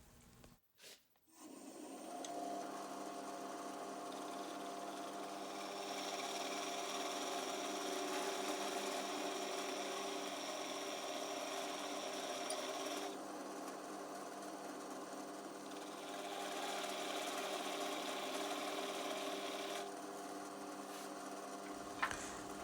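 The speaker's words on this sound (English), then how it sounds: "I'm going to use my miniature little 1/4 inch skew to score the brass tube that goes down the middle of this" A small quarter-inch skew chisel scores a brass tube spinning on a wood lathe, giving a steady whirring, humming drone with a faint high ringing that holds for about twenty seconds after a brief knock at the start.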